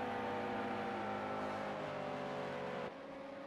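A GTE-class race car engine in the Daytona 24 Hour sim racing game holds a steady, loud, buzzing drone that shifts and drops slightly near the end, with no speech.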